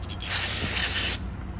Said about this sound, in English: Spray this out,